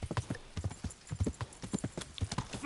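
Horse hooves galloping in the medieval video game Kingdom Come: Deliverance, a fast, rhythmic clip-clop of repeated hoof strikes, moderately quiet and steady throughout.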